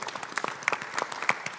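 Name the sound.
audience applause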